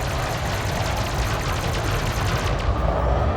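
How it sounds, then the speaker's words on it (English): Plasma accelerators fire from a Fer-de-Lance ship in Elite: Dangerous, producing rapid, repeated heavy bursts that pound steadily in a dense, loud rhythm with no talk over them. "Now these ships I don't mind firing plasma accelerators against."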